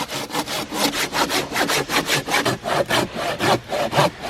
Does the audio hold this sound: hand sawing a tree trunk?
yes